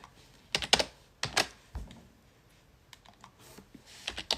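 Bursts of computer keyboard typing during a livestream, with clusters of sharp key clicks separated by short pauses, close and fairly clear, with no talking.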